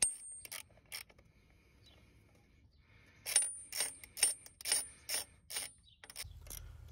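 A ratchet loosens starter motor nuts on a Ford Fiesta Mk6 1.6 TDCi, heard as close, quiet bursts of rapid clicking: a few short runs, then a longer, busier stretch of ratcheting.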